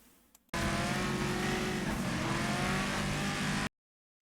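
Race cars in the video game Wreckfest give a dense, loud engine roar with gritty collision and scraping noise that starts suddenly, holds for about three seconds and then cuts out.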